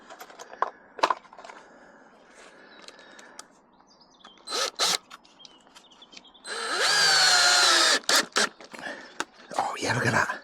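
A power drill drives exterior screws into a wooden support in a cold garden bed for broad beans and peas, a loud whirring burst near the middle amid clicks and handling noises, with brief rustling around it.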